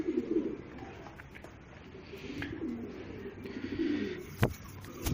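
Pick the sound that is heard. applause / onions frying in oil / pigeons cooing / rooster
pigeons cooing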